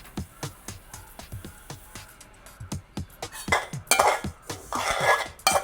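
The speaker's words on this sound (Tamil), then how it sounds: "அதில் வந்து நாங்கள் எள்ளை கொட்டிக்கொள்ளுவோம்." Sesame seeds are tipped into a cooking pan for roasting, with a run of rhythmic metallic clinks and scrapes followed by a brief, brighter rushing patter as the seeds spill in.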